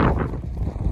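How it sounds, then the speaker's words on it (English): Gusty wind buffets the microphone outdoors at a rocket launch site in Pueblo, a steady low roar that is loud and continuous for the whole second, with no voices. "Oh, it's windy."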